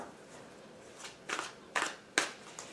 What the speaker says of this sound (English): Wow, shuffling is not working today.